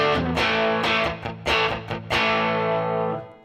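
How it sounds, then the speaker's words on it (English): An instrument passage played through a studio-type reverb preset, with several sustained notes and short gaps, then the final note ringing out and fading slowly into a smooth, washy reverb tail. "let's see what this reverb sounds like"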